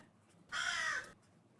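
A single harsh caw from a crow, loud and brief against a quiet background.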